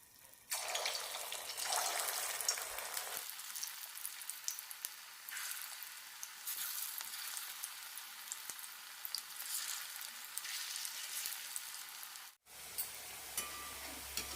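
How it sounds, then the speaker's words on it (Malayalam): Batter frying in hot oil for a crispy evening snack, a soft steady bubbling sizzle that starts abruptly, continues evenly, and briefly cuts out near the end. "എണ്ണ ചൂടായിട്ടുണ്ട് മാവ് ഇട്ട് കൊടുക്കാം"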